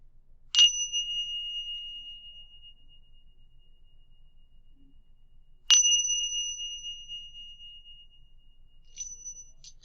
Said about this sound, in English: It was chimes, and it was these chimes here.